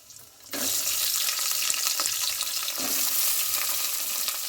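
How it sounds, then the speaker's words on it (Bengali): Chopped spring onion greens and flat beans hit hot oil in a pan, bursting into a loud, steady sizzle and crackle that continues without talk after a brief quiet start. "সব সবজিগুলো আমি তেলের মধ্যে দিয়ে দিলাম।"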